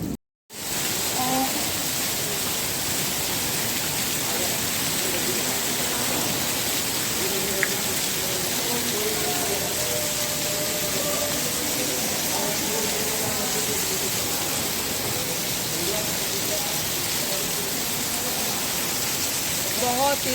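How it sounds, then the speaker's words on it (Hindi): Heavy rain pours down in Nainital with hail falling, a dense continuous hiss close by that holds steady throughout, with a few faint tones showing through it. "बहुत तेज़ बारिश शुरू हो गई है।"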